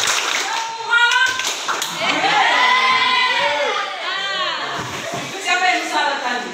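A group of children in a classroom plays a clapping game, chanting loudly together in rhythm with their hand claps, with excited shouting voices over the claps throughout.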